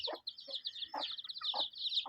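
A mother hen clucks in short low bursts roughly every half second beside her days-old chicks, whose shrill peeping runs continuously and loudly above her, all heard close up with no talking.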